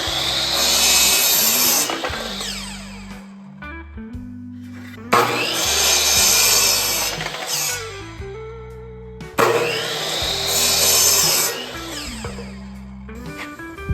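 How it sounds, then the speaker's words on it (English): A chop saw cuts through wood for a workbench build in three loud bursts, each a harsh rising whine and rasping bite through the board, separated by the motor winding down between cuts. "bring it over to the chop saw. And I always measure twice and then cut once."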